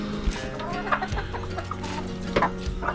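Backyard chickens cluck and murmur steadily nearby, several birds overlapping in short throaty calls over a low hum of farm background.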